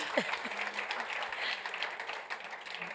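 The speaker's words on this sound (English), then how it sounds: "I would like to ask a big, big applause to these brave ones that managed to join me" A workshop group applauds, a soft steady patter of many hands clapping heard at a moderate distance throughout.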